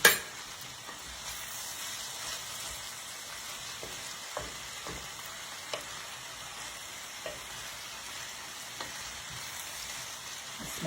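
Sausage frying in the bottom of a pan for a quick dinner, a steady broadband sizzle and hiss with occasional soft stirring clinks, close and continuous with no talking.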